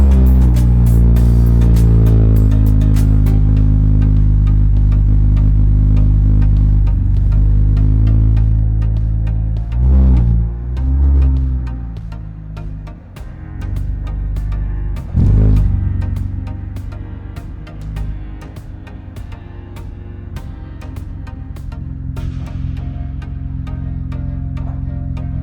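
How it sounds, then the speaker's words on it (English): BMW E46 ZHP with a new stage 2 clutch and lightweight flywheel, engine running loud and close with wheels spun in forward then reverse gear, a droning hum shifting pitch with clunks around gear changes. "Both the forward and reverse gears spin the wheels."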